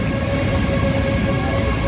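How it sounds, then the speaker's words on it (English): Steady rumble of a train station on the route from Dusseldorf toward Copenhagen, with a constant low drone and a faint high tone running throughout, no voices. "We made it the 400 metres to the train station."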